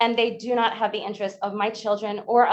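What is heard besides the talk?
No distinct noise like a dog, phone or traffic.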